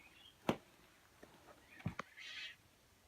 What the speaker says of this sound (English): those are birds fighting with each other